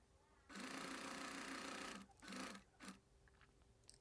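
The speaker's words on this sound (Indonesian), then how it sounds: "Lalu kita lanjutkan jahitan kita hingga ke bawah lubang celana." A sewing machine stitching the seam of a trouser pocket runs in a fast steady burst of about one and a half seconds, then two shorter runs, close and clear.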